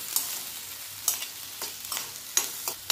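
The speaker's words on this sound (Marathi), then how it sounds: "मीडियम टू लो गॅसवर ही भाजून घ्यायचे मिरची आणि टमाटे" Green chilies, tomatoes and garlic roast in a pan over medium-low gas, a faint crackling sizzle broken by several quick scraping stirs, close by and without voices.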